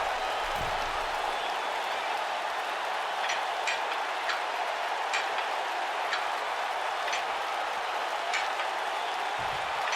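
Video-game wrestling arena crowd from WWE 2K19 replaying the American Dream pinning the Nature Boy at the Great American Bash 1986, a steady roar of cheering with scattered sharp claps and whistles throughout.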